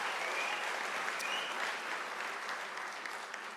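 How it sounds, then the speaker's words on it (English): An audience at a university autumn graduation ceremony applauds with dense, even clapping from a large crowd, fairly distant and steady, fading slightly toward the end. "Let's give a round of applause to that."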